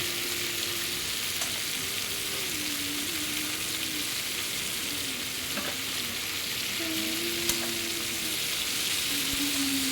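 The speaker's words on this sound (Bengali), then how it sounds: "কালো জিরেটাও একটু সাইড করে ভেজে নিচ্ছি আমি।" Black cumin seeds fry in a pan with a steady bright sizzle lasting throughout, and a few faint clinks and pitched tones sound underneath.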